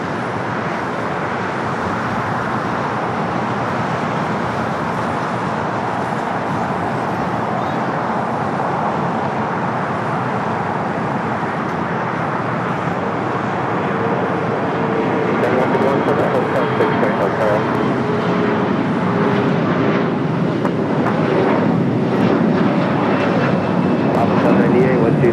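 Continuous loud jet roar from an Airbus A350-900 in LA-28 Olympics livery landing at LAX after a flight from Tokyo Haneda, steady broadband rumble swelling slightly toward the end, with people talking beneath it.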